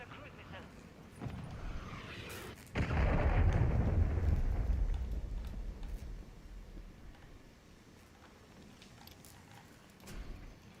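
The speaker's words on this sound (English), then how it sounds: "Hostiles launched a cruise missile." Cruise missile strike explosions in Call of Duty Modern Warfare III: a sudden heavy boom rolls into a long rumbling decay, and a smaller thud follows near the end.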